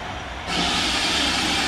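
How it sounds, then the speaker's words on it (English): A Santa train steam locomotive moving cautiously at night bursts into a loud, broad steam hiss that starts abruptly and holds steady, close by, with a low rumble beneath and no voices. "And that makes you realise it is a steam locomotive."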